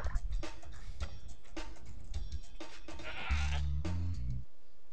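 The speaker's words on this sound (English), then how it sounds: "That's what you get for trying to sacrifice a goat to the Yeti." A goat bleats in the video game Spyro 2: Ripto's Rage, a loud, close, quavering cry near the end, after rhythmic ticking and soft game sounds.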